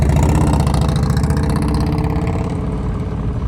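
Motorcycle engine running at low throttle during slow-speed riding practice in Texas, a loud, close, steady low rumble that stays even throughout with no speech.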